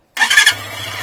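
A carbureted 2022 Peacesports Brozz Recon 250 (229 cc) enduro dual-sport motorcycle engine catches with a sharp burst and then settles into a steady, close, held-up high idle with a low droning throb.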